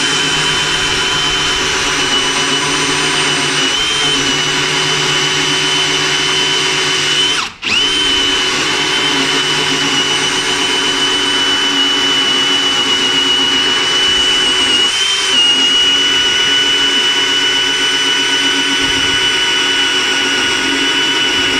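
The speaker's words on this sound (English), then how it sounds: "Now we'll test this cup saw. This is 44 millimeters diameter." A Bosch GSB 18V-150C cordless drill spins a 44 mm cup saw through wood, a loud steady whine running for the whole stretch, broken by one brief dropout partway through before the cutting resumes.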